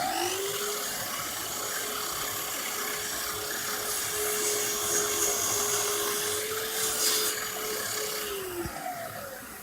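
An axial saw cutting through a wooden board: a loud, steady high whine with grinding wood noise runs for about nine seconds, then the motor winds down.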